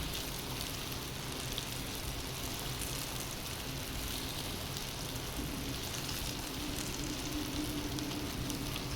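Masala mixture frying in a pan gives a steady, even sizzle that runs unbroken from start to finish, close and moderately quiet, with no voices.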